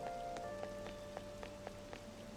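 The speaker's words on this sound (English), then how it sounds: "I heard the rain front is going to stagnate here for a while." Rain in the Persona 5 Royal video game, a soft continuous patter of falling rain with light drops ticking at a regular pace, heard quietly under a faint sustained musical tone.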